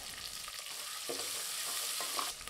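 Curry leaves and small onions sauté in hot oil in a pan, giving a steady close sizzle with faint stirring scrapes throughout and no voices.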